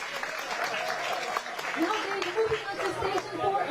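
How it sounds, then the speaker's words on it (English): Spectators clap steadily at a junior world skeet shooting championship in Changwon, with cheering mixed into the sustained applause under a commentator's voice. "No, the crowd is absolutely wild."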